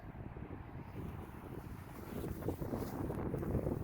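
Outdoor quartering headwind buffeting a microphone, a steady rumbling gust that swells louder toward the end, with no voices.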